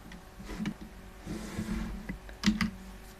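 Keys tap on a computer keyboard in a few quiet, short bursts of clicks over about three seconds, close and without speech.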